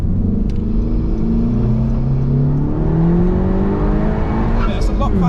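A Honda Civic Type R FK2 engine runs loud and steady in sport mode, with rising and falling engine tones and a throaty exhaust, continuous throughout.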